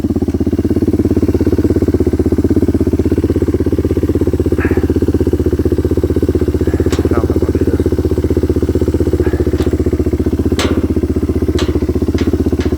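A warmed-up Kawasaki KLX 230R dirt bike engine idles loud and close in a steady unbroken drone, with a few faint clicks and knocks over it and no talking.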